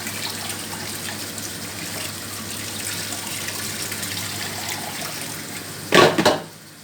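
Tap water runs steadily into a kitchen sink while herbs are rinsed for a cooked greens dish, a soft continuous stream close by that ends in a brief louder gush, with no talk.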